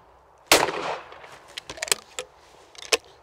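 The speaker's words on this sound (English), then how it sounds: "I'm going to pull the trigger and I'm going to keep my gun moving" A shotgun fires at a rabbit clay target on a shooting range, one sharp loud blast followed by scattered faint clicks and small knocks.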